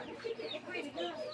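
Chickens cluck in short, overlapping bursts close by, a busy run of calls with no talking.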